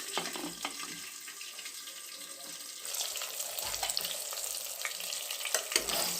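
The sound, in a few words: stuffed brinjal frying in oil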